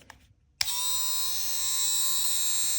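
A Milwaukee brushless rotary tool switches on after a brief near-silence, then a steady high-pitched whine of the motor running continuously and loudly up close.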